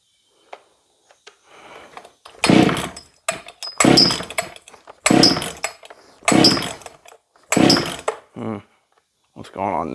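A Shindaiwa 757 chainsaw running too lean on the high-speed setting after a carburetor rebuild revs up loudly in five or six sharp, close bursts, each rising and cutting off with brief idle gaps between.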